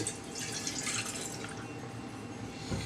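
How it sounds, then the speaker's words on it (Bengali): Water is poured from a small amount into a steel cooking pot on a stove, a light trickling splash that fades over a few seconds, with a faint clunk at the end. "আমি অল্প পরিমাণে পানি দিয়ে দিচ্ছি"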